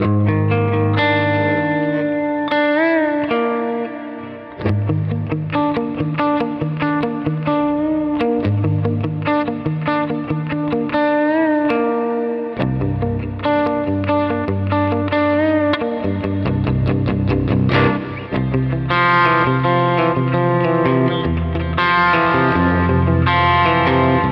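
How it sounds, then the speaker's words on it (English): Guitar notes and chords through a reverb effect ring out with a long, washy reverb tail, the sustained tones blending and lingering under each new phrase. "let's turn that off and just hear the reverb on its own now"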